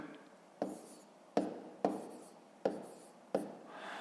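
Pen strokes on paper as numbers are written by hand for a multiplication exercise. Five or six faint, quick scratching bursts fall at an uneven pace in a quiet room.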